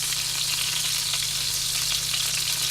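Chicken parmesan cutlets sizzle steadily in a frying pan, a loud, even crackle of hot oil that holds constant throughout with no voices.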